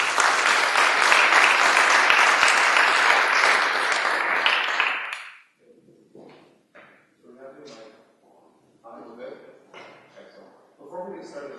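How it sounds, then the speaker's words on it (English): Audience applause welcoming the co-founder of Helical Robotics onto the stage at a robotics talk, a dense, loud burst of clapping lasting about five seconds before fading into someone speaking. "giving a big round of applause to Bruce"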